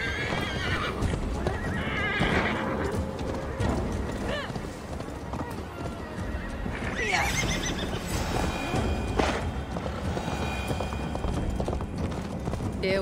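A horse gallops in the game Assassin's Creed Valhalla, hooves clip-clopping hard and fast under neighs and whinnies. Loud battle noise and shouting voices fill the mix.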